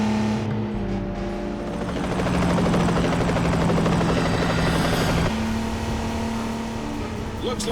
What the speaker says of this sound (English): Watch out for that helicopter!